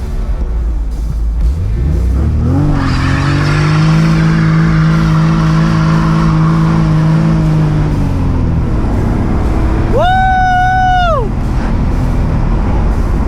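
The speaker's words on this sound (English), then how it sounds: "See this dump clutch action?" A Nissan 240SX engine roars loud and close as the clutch is dumped, revving up into a long sustained high drone that falls away. A shorter, sharper rev or tire squeal follows near the end.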